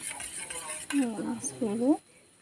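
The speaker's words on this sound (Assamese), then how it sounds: "মই এয়া দুটা কণী ভাঙি ল'লোঁ। এতিয়া অকণমান এনেকৈ মিহলাই দিছোঁ" Close, rapid clinking of a utensil whisking two eggs in a bowl, with a brief voice-like sound partway through.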